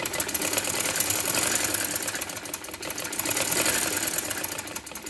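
A sewing machine double-stitches a shirt neckline, its motor whirring steadily and loudly throughout with a fast, even stitching pulse.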